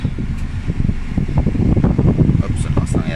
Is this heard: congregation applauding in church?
no